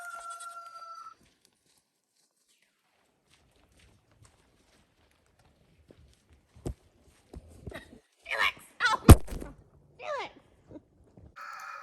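Goats at feeding time, bleating in short bursts over footsteps and clatter near the end after a long near-silent stretch, with brief talk at the start.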